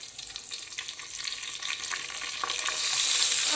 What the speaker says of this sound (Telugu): మసాలా దినుసులు బాగా ఫ్రై అయ్యాయండి.